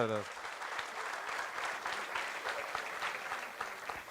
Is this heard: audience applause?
yes